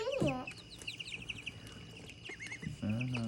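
Backyard chickens being offered insects, clucking and squawking in a busy flock with chirpy calls scattered throughout, close and fairly loud, with faint background noise.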